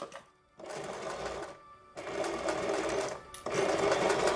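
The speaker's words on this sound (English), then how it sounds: "So forward and back, make that knot, and pull the pins as we sew" A sewing machine runs in three bursts separated by short pauses as it stitches forward and then back to lock a seam on a fabric ear-saver strap, with pins pulled out along the way.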